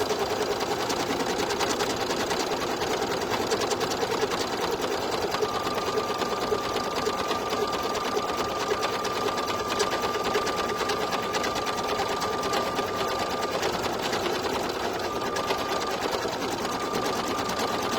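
An embroidery sewing machine stitches an in-the-hoop bow, a fast, steady mechanical whirring and needle chatter that runs unbroken and close throughout, with a faint tonal whine joining partway.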